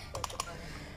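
A computer keyboard clicks in a short, quiet cluster of four or five keystrokes as a gift note is typed, with faint room noise around it.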